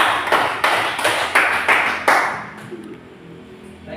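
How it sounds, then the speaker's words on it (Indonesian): A small classroom group claps for its discussion leader, a few sharp, distinct bursts of hand claps in quick succession that stop abruptly and leave a faint room hush. "Boleh beri tepuk tangannya dulu untuk Ketua Aditya."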